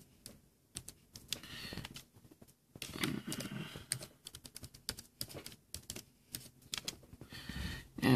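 A password being typed on a computer keyboard, heard as quiet, close, rapid clicking keystrokes in irregular bursts and runs with short pauses, without any talking.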